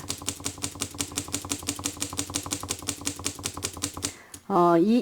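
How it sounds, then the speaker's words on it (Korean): A hand-cranked fringing tool cuts a paper strip into fine fringe, producing a quick, regular run of crisp mechanical clicks up close, then stopping as a short voiced sound takes over. "넣어서 이렇게 잘라 주시면 되는데 이러면 이 띠지 잘리는 부분이 굉장히 촘촘하게 잘리게 됩니다"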